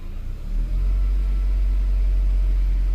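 A 2003 Volkswagen Passat 1.8T engine, with a mass airflow sensor fault, revs up under throttle, its loud steady rumble holding with no talk over it.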